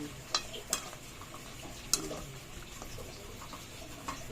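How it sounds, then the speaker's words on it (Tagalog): Adobong sitaw, yardlong beans cooking in a pan, being stirred with a utensil: faint steady sizzle under a few sharp metallic clinks and scrapes of spoon against the pan, close and quiet. "Halo-halo na haluin natin para yung nasa taas maluto."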